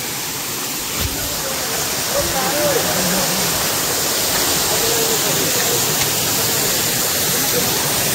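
Kurdkot waterfall at Deogarh pours with a steady, broadband roar that fills the whole scene at constant loudness, with faint voices of people nearby barely rising above the rushing water.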